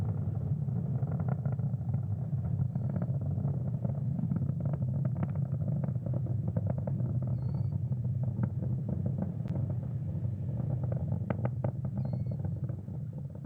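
A SpaceX Falcon 9 rocket climbing through flight after passing the speed of sound gives a continuous deep, rumbling roar, steady and heavy with crackling texture, distant and unbroken throughout.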